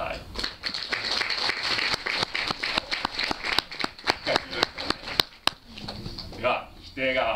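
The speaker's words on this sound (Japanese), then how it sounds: "肯定側が良かったと思う人拍手してください" Audience in a high school debate hall claps for the affirmative side, a scattered run of sharp hand claps that thins out near the end, with a voice speaking briefly afterward.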